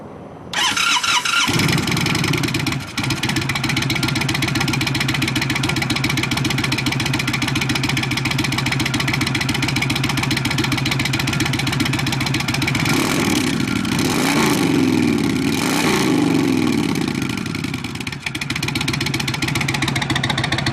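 An Indian Chief motorcycle fitted with a Dean Speed Havok 2-into-1 exhaust and quiet baffle starts up and idles in a loud, steady rumble close by. Several blips of the throttle rev it higher in the later part.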